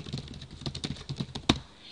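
Keys on a computer keyboard clatter in quick, uneven bursts of close clicks, with one sharper, heavier keystroke near the end, as text is typed into a Word document.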